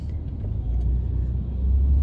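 Low steady rumble of street traffic in Causeway Bay, Hong Kong, with passing vehicles droning nearby and no voices.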